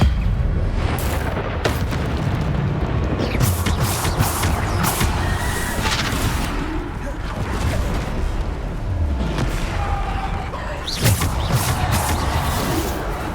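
Spell blasts in the Hogwarts Legacy video game, with repeated booming impacts and whooshing bursts over a continuous rumble of combat effects.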